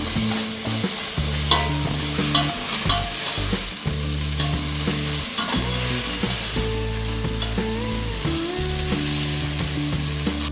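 Onions, tomatoes and spices frying for masala rice, with a spoon stirring and scraping the pan in steady bursts over a continuous close sizzle; a low tonal hum runs underneath.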